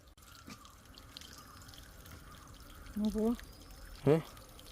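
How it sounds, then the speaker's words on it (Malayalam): Water from a pipe pours onto a plant in a farm plot as a faint, steady trickling wash, with two brief bursts of nearby talk toward the end. "ഇതേ നമ്മുടെ നങ്കിടാക്കിന് ഒരെണ്ണത്തിന് വെള്ളം കൊടുത്തുകൊണ്ടിരിക്കുകയാണ്"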